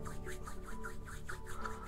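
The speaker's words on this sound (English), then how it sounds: "Now washing hands." Hands being washed: a soft, quiet, rhythmic rubbing and scrubbing with a fast back-and-forth pulse, close and alone with no voices.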